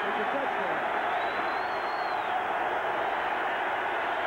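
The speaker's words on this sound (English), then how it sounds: "Crowd noise is way up." Steady, loud roar from a football stadium crowd near the goal line, a dense continuous wash of massed voices with no break or rhythm, with a commentator speaking underneath.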